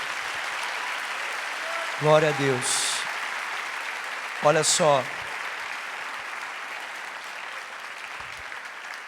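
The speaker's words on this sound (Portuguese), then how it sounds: "Vamos aplaudir esses irmãos que estão aqui" A church congregation claps in sustained, steady applause, with a voice briefly speaking over it twice before the clapping carries on alone.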